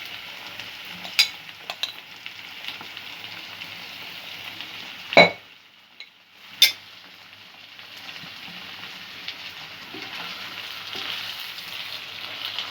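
Tomato sauce and schezwan chutney are stirred into a hot pan for restaurant-style crispy chicken, a soft continuous sizzle broken by a few sharp clanks of a utensil against the pan.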